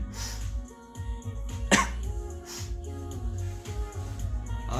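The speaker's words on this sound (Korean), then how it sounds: "아 장기침도 짜증나." A single sharp cough stands out against steady low background hum and faint ambient noise.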